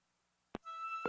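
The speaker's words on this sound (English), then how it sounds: "We're sorry, all circuits are busy at this time." Telephone busy signal: steady electronic tones start partway in after a click, clear and close with no talking.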